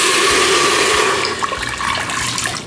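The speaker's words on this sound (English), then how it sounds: "I'm going to add 1 to 2 cups of water into the Instant Pot." Water poured into a hot, preheated Instant Pot Duo inner pot after sautéing, a steady loud rushing splash with sizzling and sputtering crackles running through the whole stretch, no talking.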